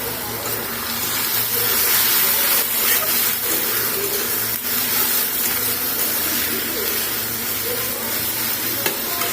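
Prawns frying in a pan with onion, ginger and garlic give a steady, close sizzle with occasional stirring scrapes, running unbroken throughout.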